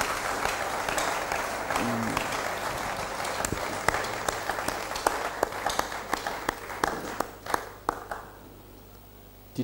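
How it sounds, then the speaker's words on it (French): A church congregation breaks into loud applause for the Lord, a dense burst of many hands clapping that gradually thins into scattered, separate claps before fading out. "Nous acclamons très fort le Seigneur notre Dieu."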